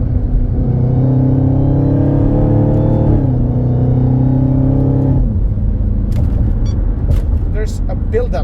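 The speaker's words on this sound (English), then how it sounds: "So when I paddle shift, like downshift like that" A car engine revs up hard and loud on a paddle-shift downshift, the pitch climbing and then dropping back as the gear changes, followed by a lower rumbling idle.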